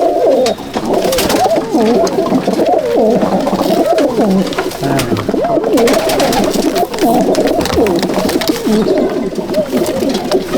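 Madrasi pigeons in a loft at Dattapukur coo continuously, several birds overlapping in a dense, steady chorus of throaty, rolling calls that stays close and loud throughout.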